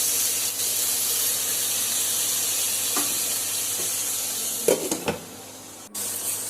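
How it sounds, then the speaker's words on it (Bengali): Curry sautéing in a pan with turmeric and salt, a constant close hiss and sizzle with a few spoon scrapes and knocks near the end, no voices. "পরিমাণ মতো হলুদ লবণ দিয়ে দিলাম, দিয়ে একটু ভালোভাবে কষিয়ে নিচ্ছি"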